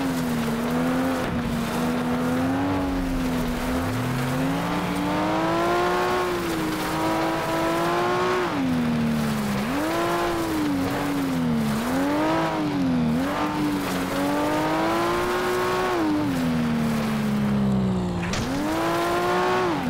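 A racing car engine in the FlatOut video game whines loudly and continuously, its pitch climbing and dropping through repeated gear shifts and revs. Occasional tire squeal sounds, with no talking.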